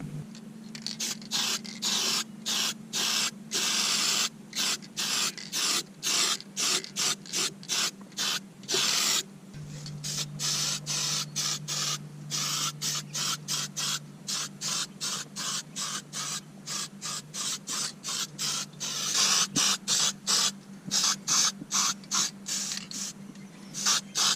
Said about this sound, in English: So you hit all the bumps and scrapes under there with some black paint.